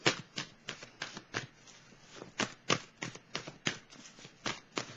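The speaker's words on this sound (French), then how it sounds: "Je vais piger une dernière carte." Tarot cards are shuffled with a quick run of crisp riffling bursts, each a short papery flutter, close and clear with no voice over them.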